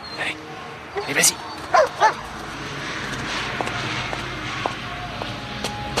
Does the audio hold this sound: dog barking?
yes